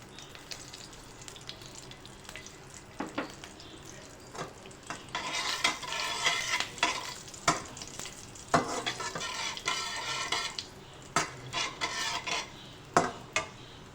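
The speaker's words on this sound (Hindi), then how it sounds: "ज़ीरा और सौंफ डाल के हम फ्राई करेंगे।" Crushed fennel and white cumin seeds fry in a pan for apple chutney, a soft steady sizzle broken by repeated scraping stirs of a spoon against the pan, close and moderately loud.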